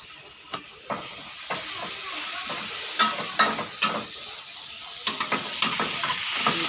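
Shrimp stir-fried for Thai basil stir-fry in a hot pan, with steady sizzling and repeated scraping clacks of a spatula against the pan, close and lively.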